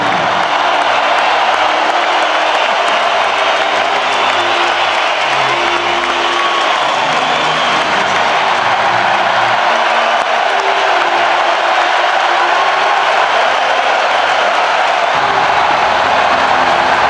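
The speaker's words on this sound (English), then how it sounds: "And they are still cheering." A huge stadium crowd roars and cheers without pause after the All Blacks win the 2011 Rugby World Cup, a dense, loud, sustained wall of applause and shouting.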